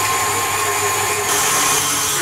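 An electric hand mixer beats chantilly cream with mascarpone and icing sugar at medium speed, giving a loud, constant whirring motor drone with a slight shift in pitch partway through the short stretch.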